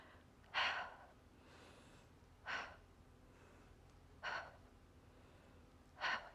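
A person breathes heavily while preparing for yoga wheel pose, four separate loud huffing breaths spaced about two seconds apart, close up, with quiet room tone between them.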